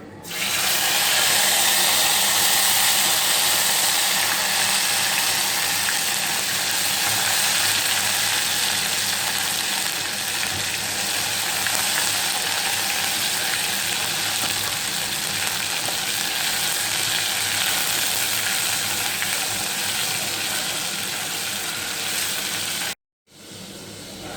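Ginger garlic paste frying with cumin in hot oil, a loud, dense, continuous sizzle close up that holds steady for the whole stretch before cutting out briefly near the end.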